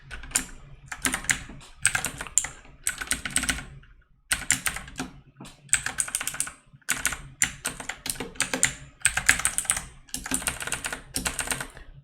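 Rapid typing on a computer keyboard during a coding session, with dense bursts of key clicks broken by short pauses, close and fairly loud, with no voices.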